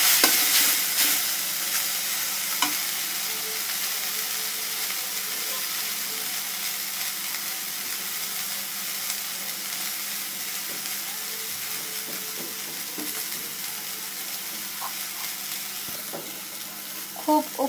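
Chopped onion, chilli and coriander frying in a little oil, a steady close sizzle with occasional stirring scrapes throughout and no talking.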